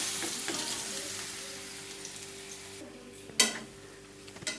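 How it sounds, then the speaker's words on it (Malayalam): Banana slices sizzle and fry in hot ghee in a pan, a steady close crackling hiss with a sharp clink of a utensil near the end, no voices. "ഇനി നമുക്കിതിലേക്കിട്ട് നമുക്ക് റോസ്റ്റ് ചെയ്തെടുക്കാം"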